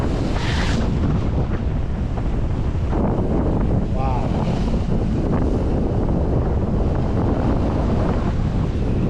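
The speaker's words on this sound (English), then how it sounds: "you can see how far away we are from the storm and how crazy the surf is out here and the wind" Strong wind from Hurricane Helene roars over a microphone on Florida's east coast beach while heavy surf crashes and churns, loud and constant, with a few brief voice sounds mixed in.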